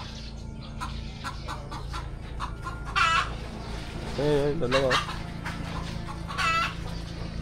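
Backyard chickens cluck with a few short harmonic calls in bursts near the middle and end, over a steady low hum, with a voice speaking briefly between the calls.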